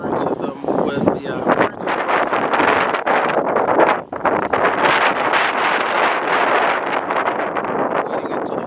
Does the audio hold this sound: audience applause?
no